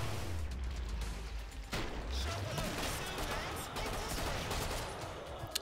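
Shotgun blasts and heavy gunfire in the Killing Floor video game, with booming shots amid dense battle noise, and a voice talking over it.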